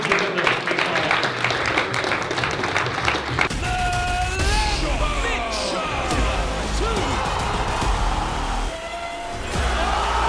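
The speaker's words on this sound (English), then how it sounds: "These guys, give them a round of applause." An audience at a PFL press conference in Dublin claps in a burst of dense applause that gives way to crowd noise, with voices heard over it.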